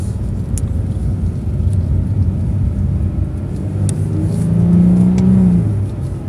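A Nissan 370Z accelerates on the road, its engine a steady loud rumble that swells into a rising rev toward the end, heard from inside the car.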